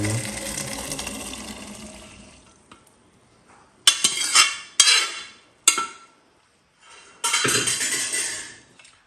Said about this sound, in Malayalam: കുക്കറിൽ വേവിച്ച് വെച്ചിരിക്കുന്ന കടല നമുക്ക് ചേർത്ത് കൊടുക്കാം.